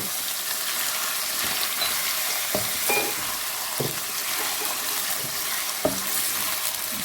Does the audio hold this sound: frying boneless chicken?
yes